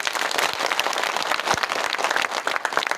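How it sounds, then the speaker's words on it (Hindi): Clapping from a rally crowd at an outdoor protest gathering in Mandla district, a dense patter of hands with sharper individual claps near the listener, lasting a few seconds without speech. "अपने लिए ताली बजाओ।"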